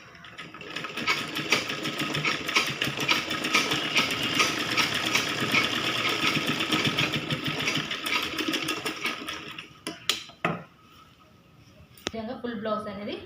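Sewing machine attaching the back panel of a kids' blouse for a lehenga choli, running steadily for about ten seconds with a dense mechanical whir, then stopping briefly before a short restart.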